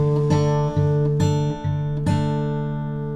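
Guitar mixes fingerpicked bass notes with light strums in a song's rhythm: ringing chords punctuated by several crisp strum accents at an even, relaxed pace, close and clear, with no talking.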